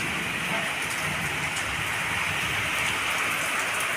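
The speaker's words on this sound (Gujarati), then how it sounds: "फूल वरसाद चालू है धोधमार" Heavy outdoor downpour during an unseasonal storm, a dense continuous roar of rain hammering on surfaces, loud and even for the whole stretch with no voices.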